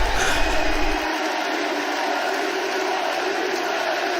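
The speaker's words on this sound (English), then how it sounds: "hear a crowd cheering for you that way" A crowd at a Trackmania esports semi-final roars and cheers in a dense, loud, continuous wash of voices, sustained without a break for several seconds.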